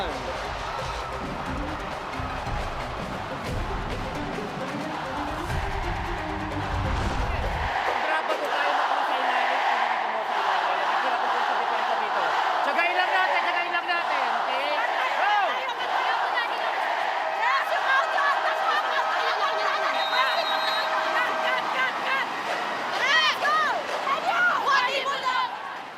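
A massive crowd roars at a women's volleyball game in the Smart Araneta Coliseum, UAAP Season 86. A broad swell of cheering and chatter builds and holds for the whole stretch, with a commentator talking throughout.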